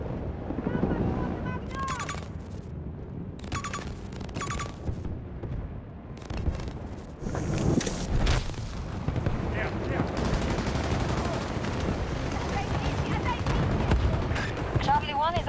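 Video game gunfire crackles in rapid bursts and scattered shots, with occasional heavier blasts, under almost constant speech and radio chatter.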